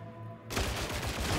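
A Recon lasgun is hip-fired in Warhammer 40,000: Darktide, starting after a quiet moment as a rapid, loud run of energy shots in a dense, continuous burst.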